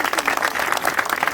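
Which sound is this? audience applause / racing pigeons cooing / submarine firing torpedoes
audience applause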